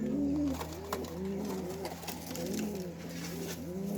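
Pigeons kept at home give repeated soft, throaty coos in a steady rolling rhythm, close by and moderately loud, with no talking.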